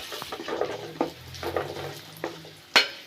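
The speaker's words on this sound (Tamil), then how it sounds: "எல்லாமே கொஞ்சம் பொன்னிறமாக வர்ற வரைக்கும் அப்படி லைட்டாக நெய்யில்" Raisins and dates fry lightly in ghee in a pan for white pumpkin halwa, a soft sizzle under repeated scraping stirs and a sharper knock near the end.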